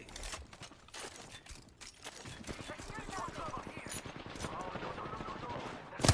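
Peacekeeper shotgun fire in the video game Apex Legends, loud sharp blasts and gunfire bursts amid chaotic in-game combat, with a voice talking over the action.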